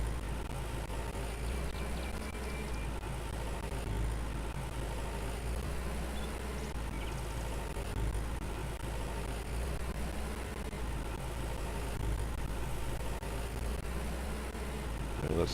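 Tractor engine plowing a field in Farmer's Dynasty, a low steady rumble running continuously at moderate, even volume with no talk.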